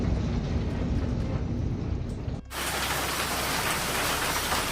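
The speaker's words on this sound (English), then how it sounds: "Hail poured down over Cheyenne, Wyoming, covering the ground in white" Steady dense patter of hail falling during a storm in Cheyenne, Wyoming, hitting surfaces, loud and continuous, with a sudden brighter, harsher shift partway through.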